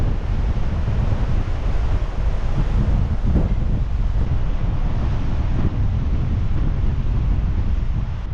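Strong wind gusting across an open hill, a loud, continuous buffeting roar over the microphone that lasts the whole time, with no voice heard.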